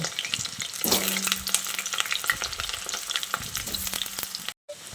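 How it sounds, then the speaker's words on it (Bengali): Potatoes sizzle loudly in hot oil, with scraping stirring strokes breaking through the constant crackle; the sound cuts out briefly near the end. "2 ব্যাচে আলুগুলোকে ভেজে নেব"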